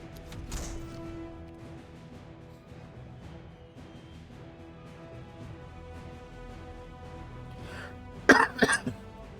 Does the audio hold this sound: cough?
yes